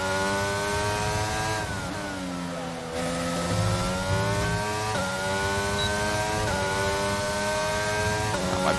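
A Formula 1 car in the F1 22 video game laps Monza, its engine a loud, high-pitched whine that climbs through the gears, drops sharply under braking, and climbs again, heard continuously up close.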